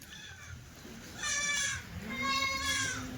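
Two loud, wavering bleats from Kathiawari goats follow a fainter earlier call, with quieter bleating in between; close by, no talking.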